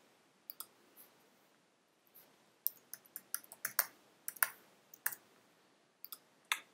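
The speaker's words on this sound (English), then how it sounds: "type in your username and password" Computer keyboard typing, a scattered run of crisp, quiet key clicks in short irregular bursts with brief pauses, close and alone against a silent background.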